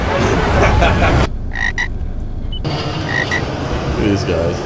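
Frogs croaking in Mexico, a dense, loud chorus of rapid croaks that drops away briefly to a few isolated calls before the full chorus returns.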